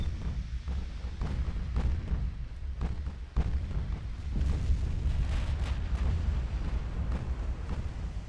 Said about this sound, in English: Took a 16-inch hit from the Setsu